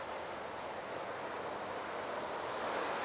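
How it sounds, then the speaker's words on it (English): Water spray rinsing a car coated with a ceramic finish such as Chemical Guys Hydro Blitz or JIMBO'S Tough As Shell: a steady, even, close hiss of spraying water with no pauses or voices. "I do wanna do an initial rinse to see how things are holding up"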